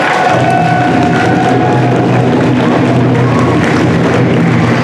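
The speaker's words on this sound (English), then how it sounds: "Give a round of applause." Applause and cheering from the crowd at a high school graduation ceremony, a loud, continuous roar of clapping and voices held steady from start to finish.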